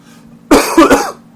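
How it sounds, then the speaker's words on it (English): A single cough, close and fairly loud, with two or three bursts in quick succession like a harsh throat-clearing cough during sports commentary. "And the coughing, that too."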